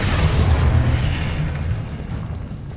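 A Confringo fire spell explodes in Hogwarts Legacy, a heavy booming blast with a deep rumble that rolls on and slowly fades over a few seconds, loud and close.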